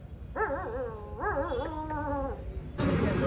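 A voice mimics a dog with two drawn-out, wavering howl-like whines, close and fairly loud, followed by a burst of noise.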